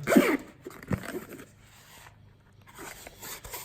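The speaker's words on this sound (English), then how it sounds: "The zipper seems to work well without any problems at all." A zipper on a microphone case rasps open up close in a couple of quick pulls, followed by quieter scraping and handling noises, then softer zipping near the end.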